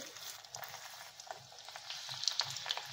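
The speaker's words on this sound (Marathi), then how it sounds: "फोडणीमध्ये ना सुरुवातीला आपल्याला हे गोल चिरलेला लसूण जो आहे ना तो घालून घ्यायचा आहे" Sliced garlic frying in hot oil for a tadka, a steady close crackling sizzle with small pops scattered throughout.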